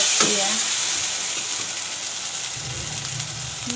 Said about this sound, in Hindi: बस यहाँ मैं दाल फ्राई कर लूँगी।